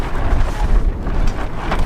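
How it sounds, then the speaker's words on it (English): Wind gusting across an outdoor dinosaur dig site in Utah, a loud low rumbling buffet against the microphone, fluctuating steadily with no voices. "but it is kind of windy right now."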